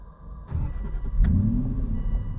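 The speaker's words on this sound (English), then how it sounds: "and your Aston Martin is started up" A 2007 Aston Martin Vantage V8 starts up: a quiet click, a brief crank, then the engine catches with a loud rising roar and settles into a rumbling idle, heard close with no talking.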